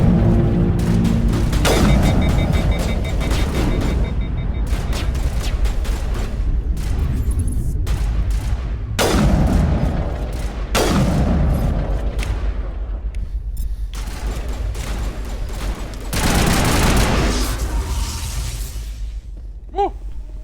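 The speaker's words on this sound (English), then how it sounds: "Sniper rifle." Sniper rifle shots in Mass Effect: Legendary Edition boom out as several loud, sharp cracks spaced seconds apart, amid ongoing game combat sounds and bursts of gunfire.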